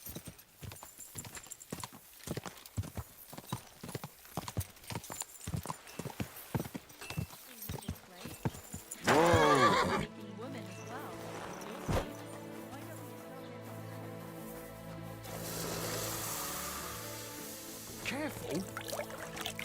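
Horse hooves clip-clop in a steady rhythm for several seconds in the video game Kingdom Come: Deliverance II, then give way to a splash and softer ambient game sounds with faint voices.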